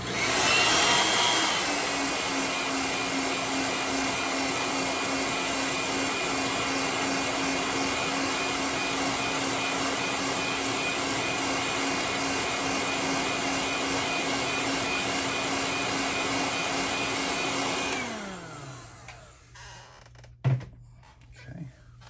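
An airbrush gun blows a continuous hiss of air over painted pewter for about eighteen seconds, drying the paint on a custom sunfish. Then the airflow winds down and stops, followed by a couple of faint clicks and handling sounds.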